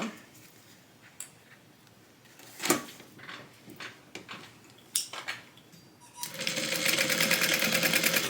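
Sewing machine stitching along a folded tote bag bottom, starting after scattered handling clicks and then running steadily and fairly loud near the end.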